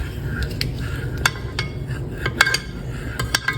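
A fork stirring a chocolate mousse mixture with whipped egg whites in a saucepan gives soft scraping and occasional light metallic clinks against the pan, at a gentle, irregular pace.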